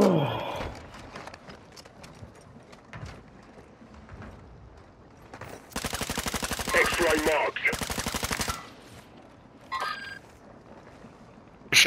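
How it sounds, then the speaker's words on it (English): Rapid gunfire in Call of Duty Warzone crackles in loud bursts of sharp repeated shots, with scattered single cracks and game effects between the volleys. "Shit, somebody sniping. Get down, somebody sniping. I'm taking fire."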